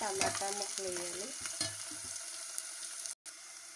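Drumstick pieces sizzling in a hot pan for a drumstick and tomato curry, with a steady close frying hiss and some stirring scrapes near the start, before a brief cut to silence.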